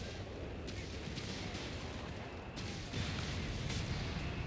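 Artillery fire in the Company of Heroes 3 battle game, with dense booming blasts and crackling gunfire layered into a continuous, roaring wash of combat noise that swells louder near the end.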